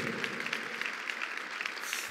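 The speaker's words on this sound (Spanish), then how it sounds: "¿Cuánto da un aplauso al Rey de Reyes?" A church congregation clapping in praise, a dense, even patter of many hands sustained across the whole moment, moderately loud with faint voices mixed in.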